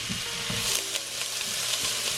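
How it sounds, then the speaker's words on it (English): Onions and garlic fry in hot oil with a steady, loud broadband sizzle, broken by a few soft stirring knocks in the pan; no voices. "So in go the onions and in goes the garlic."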